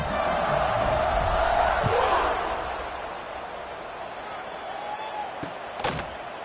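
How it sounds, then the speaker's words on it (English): Stadium crowd noise from a football video game, a broad steady roar that swells over the first two seconds then settles into a lower, continuous hum with a couple of sharp thumps near the end. "this crowd is buzzing after that last score"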